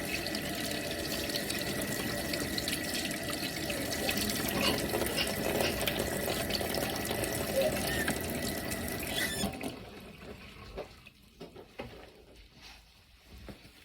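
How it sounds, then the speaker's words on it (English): Hands being rinsed under a running tap, a steady close splash of water that stops abruptly near the end, leaving faint dripping and quiet room sound. "You will then rinse your hands in a downward motion."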